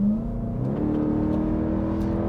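A Dodge Durango SRT Hellcat's supercharged engine revs hard through its exhaust, a loud, deep, sustained roar with rising tones as the revs climb and then hold near the listener.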